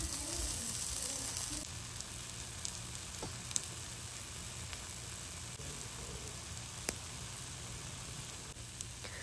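Black bean burgers fry quietly in an oiled cast iron skillet, giving a soft, even sizzle with a couple of faint ticks.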